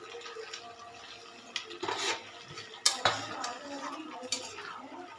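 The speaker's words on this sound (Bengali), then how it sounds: "এবারে এতে বড়িগুলো আমি দিয়ে দিচ্ছি" Lentil dumplings (bori) drop into a coriander leaf curry in a pan, giving quiet simmering and soft stirring with a few sharp clinks of a utensil against the pan.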